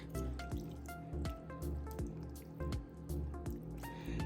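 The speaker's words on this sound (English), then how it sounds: "I am going to add a little milk" Milk is added to roasted garlic mashed potatoes, heard as a run of close, wet squishing and dripping sounds in a steady rhythm, quiet and without talk.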